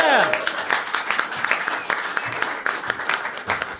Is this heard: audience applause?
yes